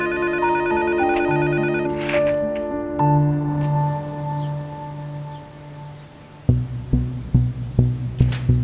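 A telephone bell rings in sustained electronic tones that shift pitch across several seconds, then gives way to a series of sharp, rhythmic rings, loud and close, with no talking.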